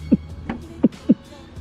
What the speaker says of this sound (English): We gotta get that heartbeat going.